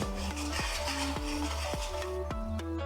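Rohu fish biryani masala being stirred in a pan over low heat, with a spoon scraping and clinking against the metal in a steady rhythm of about five strokes over a soft sizzle, no talk.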